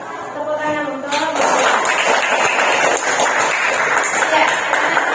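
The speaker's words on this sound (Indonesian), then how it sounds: "Tepuk tangan untuk" Applause from a classroom audience of students, dense clapping filling the room after a short burst of talk and music at the start, steady and fairly loud throughout.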